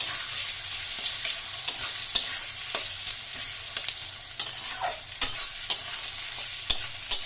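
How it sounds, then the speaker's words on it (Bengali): Bay leaf and chopped onion frying in hot oil for chicken kosha, a steady close hiss of sizzling with occasional sharp crackles and stirring scrapes, no talking. "আমাদের তেল গরম হয়ে গেছে আমরা তেজপাতাটা প্রথমে দিয়ে দিলাম পেঁয়াজ কুচি দুটো পেঁয়াজ আছে"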